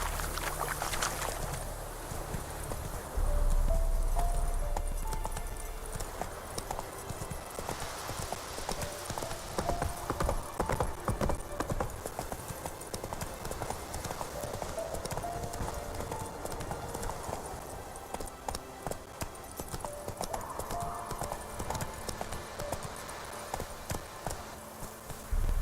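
Roach the horse galloping in Witcher 3, a rapid, continuous clip-clop of hooves held close and loud throughout, with a brief voice near the start.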